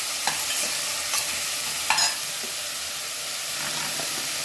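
Cut pineapple cooking in a pan, a soft steady sizzle with a few light stirring scrapes, close and quiet with no talk.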